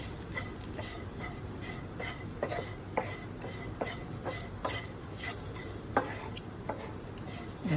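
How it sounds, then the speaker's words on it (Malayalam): Chili powder frying in a little oil in a non-stick pan, a faint low sizzle with soft spoon taps and scrapes at irregular intervals, no talk over it. "അത് പതുക്കെ ഒന്ന് ഈ എണ്ണയിൽ കിടന്നൊന്ന് മുരിയട്ടെ."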